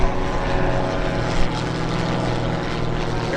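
A yellow Breezy homebuilt aircraft taking off at EAA AirVenture Oshkosh 2025, its loud propeller engine droning steadily and close, filling the air on its own.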